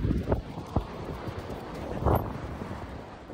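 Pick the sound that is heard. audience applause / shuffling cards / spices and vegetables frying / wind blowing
wind blowing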